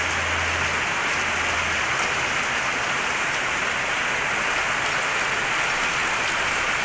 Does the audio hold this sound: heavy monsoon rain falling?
yes